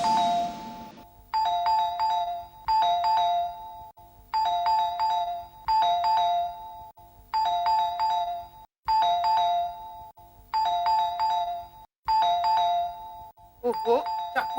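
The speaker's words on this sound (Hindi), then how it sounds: "इतनी जोर से घंटी बज रही है, दरवाजा क्यों नहीं खोल रही है?" Electronic doorbell chiming over and over in a home, a repeated ding-dong pattern in quick bursts, loud and clear throughout, with a voice speaking near the end.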